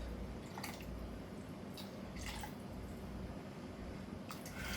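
Water is poured into a pot of rice being cooked alongside oxtail, producing faint, soft liquid splashing and dripping in a few brief bursts over quiet background noise.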